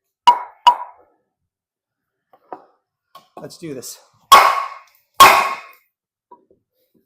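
A kukri in AUS10 steel chops through material in a few sharp, close, loud blows spaced unevenly, with lighter knocks between them and someone speaking briefly.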